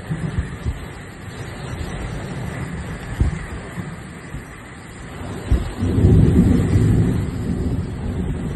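A violent thunderstorm over Palermo, with a steady hiss of rain and wind, low thunder rumbles and a heavier surge of roaring rain near the end.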